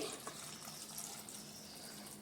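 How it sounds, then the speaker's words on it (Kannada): Water runs steadily into a metal pressure cooker, a constant close splashing rush with no talking. "ಇದು ಸ್ವಲ್ಪ ಮುಳುಗುವಷ್ಟು ನೀರು ಹಾಕಿ"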